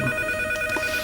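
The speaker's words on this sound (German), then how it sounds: "Telefon." A telephone rings, a steady electronic trill of layered tones that sounds briefly over a faint room background.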